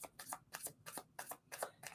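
Tarot cards are shuffled close by in quick repeated riffling bursts, about eight crisp strokes in two seconds, with no talk.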